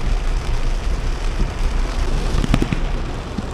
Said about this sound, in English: So big rain.